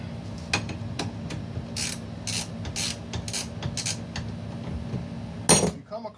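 A wrench works loose the tie rod nut on an ATV during a wheel bearing and ball joint job, giving a string of metallic ratchet clicks and taps, then a louder clank near the end.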